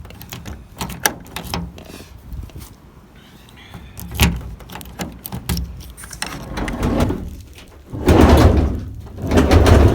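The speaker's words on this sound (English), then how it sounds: "So we'll have a go opening up the side door." Someone works the locked sliding side door of an Iveco Daily van: a run of sharp clunks and rattles from the handle and latch, growing louder, with heavy thuds and scraping toward the end, close up and with no voices.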